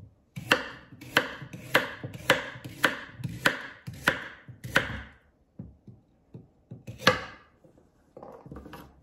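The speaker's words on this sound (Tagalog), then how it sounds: "Pinuputol-putol po siya ng maliliit para mabilis po siya maano sa machine." Carrots being chopped into small pieces with a knife on a cutting board, a steady run of about seven sharp, close knocks, then a few scattered quieter cuts and one more firm chop before the sound trails off.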